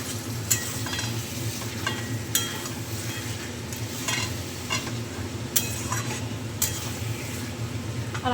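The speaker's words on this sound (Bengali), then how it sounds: "চিকেনটা দিয়ে আমি ভালো করে মশলার সঙ্গে চিকেনটা ভালো করে মাখিয়ে নিই" Chicken pieces are stirred through spices in a sizzling pan for mutton curry, with steady frying hiss and repeated clinks and scrapes of a spoon against the metal, close and continuous.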